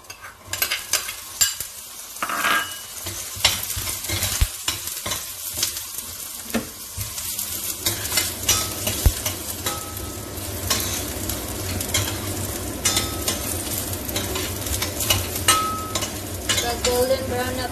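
Onion and garlic sauté in a pan for the ambalaya and egg dish, loud crackling sizzle joined by repeated spatula scrapes and clinks against the pan, busier early on and settling into a steady fry, no voices.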